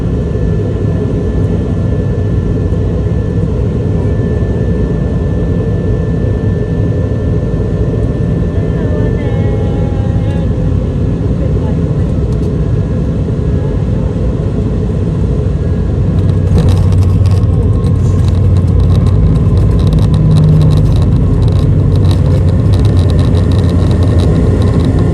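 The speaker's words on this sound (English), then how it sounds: "we're about to touch down at Uluru in the centre of Australia." Inside the cabin of a QantasLink Airbus A220 touching down at Uluru in central Australia, a loud, constant engine drone and airflow rumble fill the whole span, with a rougher burst toward the end as the wheels meet the runway.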